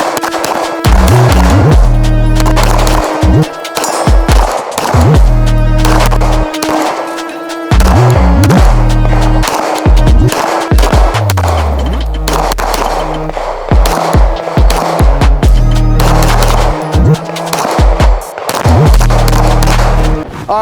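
Rifle fire from a SIG Sauer Spear, a PSA AK102 and other guns at an outdoor range: loud, rapid shots and strings of fire repeating nearly continuously, some ringing out with a long booming decay.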